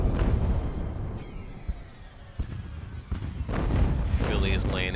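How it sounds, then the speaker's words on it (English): Grape shot cannon fire during a naval battle in Ultimate Admiral: Age of Sails, with several sharp booming blasts in quick succession mixed with crackling impacts, loud and close. "Really tearing into him with grape shot now"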